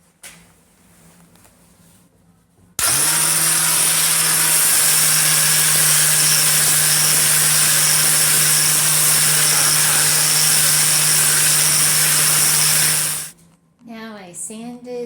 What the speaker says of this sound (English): So my first step is to sand the tile and get it prepared to take the cement.